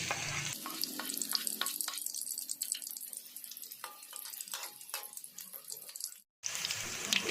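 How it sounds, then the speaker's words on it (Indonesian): Oil crackling and sizzling in a hot pan on a stove, a continuous close hiss peppered with sharp pops, briefly cutting out near the end before resuming. "minyaknya ada suara kemericik-kemericiknya guys"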